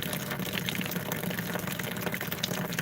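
Cold water rushes steadily through a float valve into a solar hot water tank, a continuous close hiss and gush with turbulent bubbling and no pauses.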